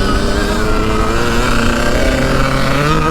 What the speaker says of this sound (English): Alex's bike sounds so nice